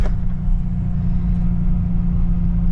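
A vehicle drives along a road with a steady, close low engine and tire rumble that holds an even level throughout, alone and without talking.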